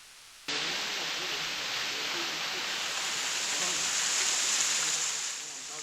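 A small waterfall about 30 feet high in green forest at Satkosia, running low in the dry season, gives a steady broadband hiss of falling water, constant and fairly close throughout, with no talk.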